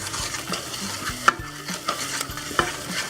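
A spoon stirs seasonings into chicken pot pie filling in a pan, making repeated scraping strokes and a few sharp clinks over a soft sizzle, close-up and without speech.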